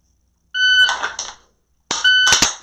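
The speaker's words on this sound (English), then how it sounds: "Wait and react to the very first edge of that note of the beep." A shot timer giving loud electronic beeps during a dry fire pistol drill, two close tonal bursts separated by a short pause, clear and near in an otherwise quiet room.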